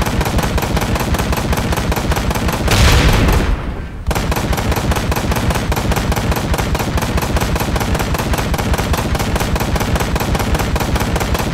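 A big automatic gun in Ride to Hell: Retribution fires long continuous bursts at a fast steady rate, very loud and close, interrupted once by a short whooshing blast before firing resumes.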